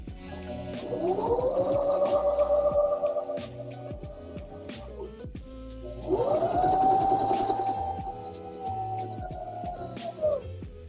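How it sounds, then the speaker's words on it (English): A sewing machine runs in two long, steady stretches with a brief pause between them, its whirring motor whine holding a constant pitch at close range. "Yes, Midas, the fabric comes out the back side of the sewing machine."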